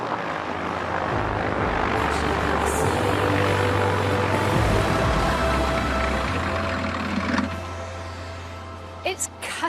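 Large aircraft, an Airbus Beluga, taxiing on the apron after vacating the runway: a steady loud engine whine and rumble throughout, with voices talking over it.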